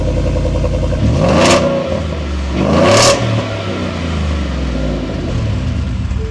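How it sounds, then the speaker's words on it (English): A Ford F-150's Coyote V8 cold-starts with its exhaust removed, barking loudly with two sharp revs over a raw, rumbling idle. "With that exhaust off now, we're going to get a cold start up so we can really hear that Coyote V8."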